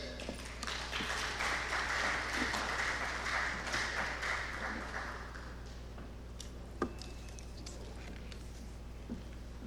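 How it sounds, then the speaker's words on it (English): Conference audience at the AFNIS 2025 session gives a steady round of applause, a dense wash of clapping that fades after about six seconds, leaving a quiet room with a few stray taps. "Please another round of applause"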